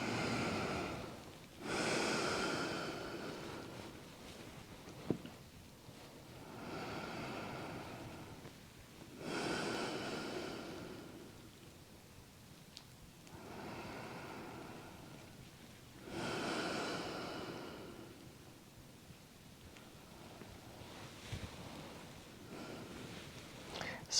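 Slow, deep breaths taken during a hands-on back therapy session, four long inhale-exhale cycles spaced evenly and heard close up in a quiet room, each a soft airy rush with brief snort-like edges.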